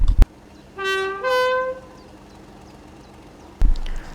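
Class 31 diesel locomotive in a Midland Railway simulation sounds two drawn-out horn blasts in the middle, framed by a sharp click at the start and a thud near the end, with low engine rumble beneath.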